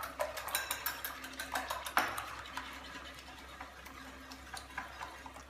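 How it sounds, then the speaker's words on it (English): A whisk beats eggs in a bowl, producing faint, quick rhythmic clinks and taps of metal wire against the bowl, up close and alone. "I'm just going to whisk these eggs up with the same whisk"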